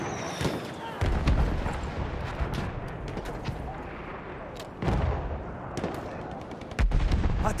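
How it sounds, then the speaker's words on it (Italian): Machine gun fire in the Battlefield 1 game, loud bursts of rapid shots recurring every few seconds over a dense battle din. "Attenzione, mitragliatrice!"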